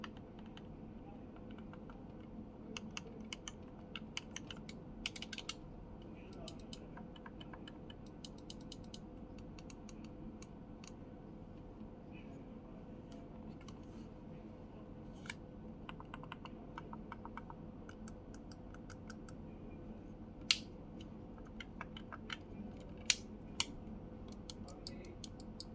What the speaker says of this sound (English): let's press the keys on the controller and hear how they sound